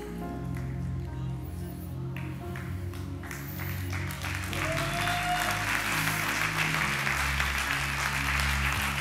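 A church congregation claps loudly and steadily for several seconds during a sermon, a dense continuous patter of hands with low musical tones sounding beneath.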